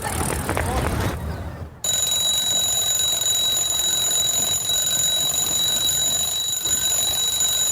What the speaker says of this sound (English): Hey, somebody turn off your alarm.